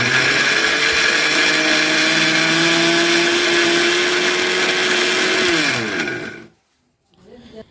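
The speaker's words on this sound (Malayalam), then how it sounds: "ആദ്യം തന്നെ കുറച്ച് വെളുത്തുള്ളി, ഇഞ്ചി, പച്ചമുളക് കൂടിയിട്ട് നന്നായിട്ട് അരച്ചിടുക." A kitchen mixer grinder whirs loudly, grinding garlic, ginger and green chillies for biryani, its motor pitch climbing slightly before winding down and stopping, then a brief clatter after it falls silent.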